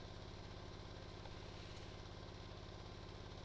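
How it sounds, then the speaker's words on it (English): A boat engine in the game Stormworks runs at a steady, throbbing idle, a constant rhythmic drone with no pauses or other sounds. "I'm going to turn the engine down a little bit, just so I'm not having to yell over it."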